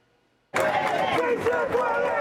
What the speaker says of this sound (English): A crowd chanted outside the Baltimore Federal Building, supporting Kilmar Abrego Garcia.